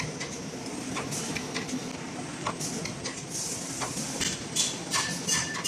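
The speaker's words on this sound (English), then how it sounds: "Now the blister packing machine is working now." A blister packing machine runs with a steady mechanical clatter, repeated clicks and metallic taps over a constant motor hum, close and fairly loud.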